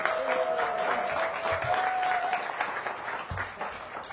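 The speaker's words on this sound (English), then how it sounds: "Let's give Jeff a big round of applause." Audience applause at a small restaurant gathering for a Southern Cajun kitchen event, a steady dense patter of many hands sustained for about four seconds with faint voices mixed in.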